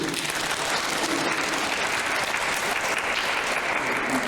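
A congregation applauds together during a Sunday service at a Korean mission church in Berlin, steady dense clapping filling the room for several seconds without a break.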